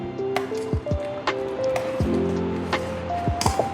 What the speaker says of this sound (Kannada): ಇವಾಗ ಒಂದ್ ಸ್ವಲ್ಪ ನೀರು ಹಾಕೊಂತಾರೆ ನಮ್ಮಮ್ಮ, ಎಷ್ಟು ಬೇಕಷ್ಟು.